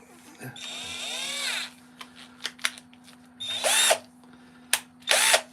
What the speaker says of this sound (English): Only a little drill.